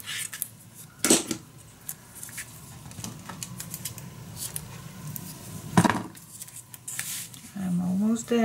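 Paper is cut for a handmade mini album, giving sparse crisp snips and light rustling up close, with a couple of sharper clatters and a voice speaking briefly near the end.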